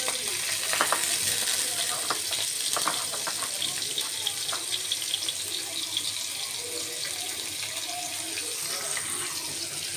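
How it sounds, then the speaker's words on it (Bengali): Chopped onion and torn green chillies frying in oil for a small-fish chorchori, giving a steady, dense sizzle and crackle that holds close and even for the whole stretch, with no talk. "চুলে আমি পরিমাণ মতো তেল দিয়ে দিয়েছি এখন একটু পেঁয়াজ কুচি দেব দুটো ছেঁড়া কাঁচা লঙ্কা দেবো"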